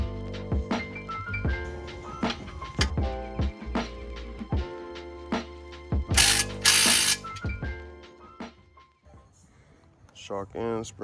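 A ratchet wrench clicks in quick repeated bursts while bolting up the lower mount of a Raceland Primo coilover on a 2016 MK6 Jetta GLI. The clicks are close and loud, with a brief harsh hiss midway, and a person talks over part of the work.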